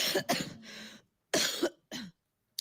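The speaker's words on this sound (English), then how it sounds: "Probably coughing all on him." A few quick, raspy coughs in short bursts, nearby and fairly soft, with pauses between them.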